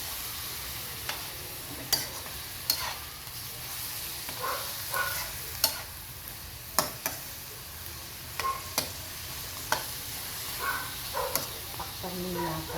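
Chicken adobo frying in a pan with plenty of black pepper, stirred with a utensil: steady sizzle under repeated scraping knocks and clinks at an irregular pace, close and moderately loud.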